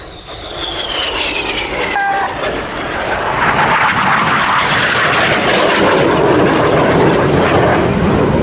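Aerobatic display jets fly the carousel manoeuvre at an air show, pulling opposing 360-degree 6G turns and crossing one another. Their engines make a loud, sustained roar that swells steadily as they pass.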